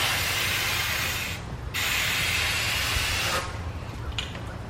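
Aerosol can spraying gold metallic paint onto a side table: steady close hissing bursts, one brief pause near one and a half seconds and a softer, sputtering end after three and a half seconds, no voices.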